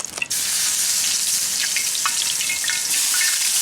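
Marinated meat sizzles loudly and steadily in a hot pan at a campsite dinner, a dense, continuous hiss with faint pops and crackles, preceded by a brief clatter as the pieces go in.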